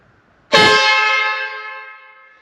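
A train horn fitted to a 1940 car blasts once at close range, a sudden, very loud, harmonically rich tone that holds for about two seconds and slowly fades, alone with no talk.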